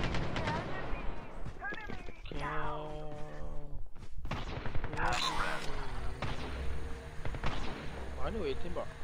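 Gunfire crackles in a Call of Duty Mobile battle royale match, bursts of shots and booms heard under players chatting over voice comms.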